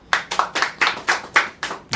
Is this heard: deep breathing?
no